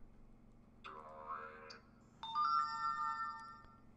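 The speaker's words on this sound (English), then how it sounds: "your phone notifies you that you have a new text message" Text message notification tone on a Droid X phone, two short electronic chimes in a row, the second brighter and more bell-like, quiet and alone.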